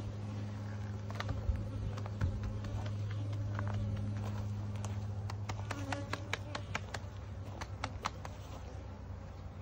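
Honeybees buzzing during an April hive inspection, a steady low drone of many bees close by, with small clicks and taps from handling the hive scattered throughout.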